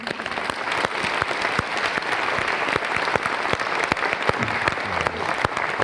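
Audience applause welcoming a dean at a Dean of the Year event, a dense steady wash of clapping from a crowd, sustained throughout at fairly loud level.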